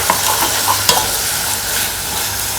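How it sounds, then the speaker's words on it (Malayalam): Ginger, garlic and green chilli paste sautéing in hot oil in a pan, a steady close sizzle with a few soft spoon scrapes and taps, no voices. "ഇനി നമുക്ക് ഇത് ഒന്ന് നല്ലപോലെ വഴറ്റിയെടുക്കാം."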